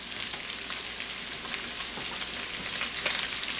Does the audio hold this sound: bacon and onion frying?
yes